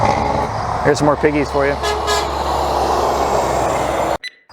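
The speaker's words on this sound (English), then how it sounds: "Still another truck coming." A large truck rolls past on a loud roadside in Canada, its steady roar filling the clip with a horn-like tone. Someone talks over it, and the sound cuts off abruptly at the end.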